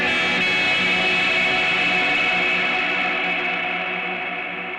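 Electric guitar played through a Super Sweet gain pedal into an Eventide H9 effects unit and amp, a loud sustained distorted chord shimmering with chorus and echo, slowly fading toward the end, with no talking.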